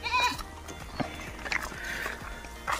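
Goats on a farm bleat several times in quick succession, fairly close and loud, over a rustling outdoor background with no talking.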